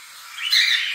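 A white-faced cockatiel chick in a nest of five lets out a short, high, raspy squawk that rises and fades within a second, close up and alone.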